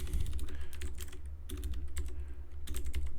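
Typing on a computer keyboard, clusters of crisp close key clicks in bursts separated by short pauses over a low steady hum, with no talk.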